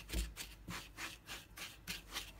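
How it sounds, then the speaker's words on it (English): Soft, rhythmic gritty rubbing of lemon zest worked into sugar by hand, quiet and close, with steady repeated strokes roughly every half second. "I'm going to mix the lemon zest with the sugar"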